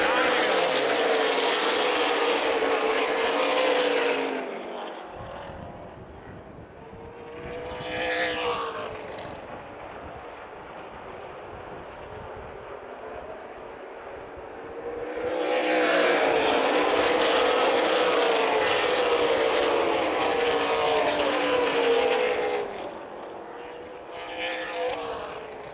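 ARCA/CRA stock race cars roar past in waves at Toledo Speedway, the engine noise swelling loudly, fading to a distant drone, then surging back as the field builds speed.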